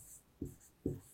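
Pen writing words on paper, two short quiet scratching strokes close by in a silent room.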